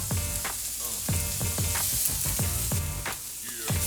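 Jerk chicken and shrimp sauté in a pan with a steady, loud sizzle, broken by repeated sharp clatters as the pieces are moved and turned.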